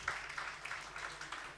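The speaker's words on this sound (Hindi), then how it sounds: "इनके लिए एक बार ज़ोरदार तालियां बजा दीजिए" An audience applauds at a mushaira and kavi sammelan poetry gathering, a brief wash of clapping from a crowd that stays fairly even in loudness, heard alone without talk.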